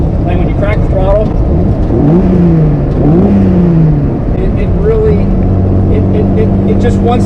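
A Jeep 4.0 inline-six fitted with a BBK 62mm throttle body revs in quick, rising bursts, with a loud, close engine drone under a man's speech.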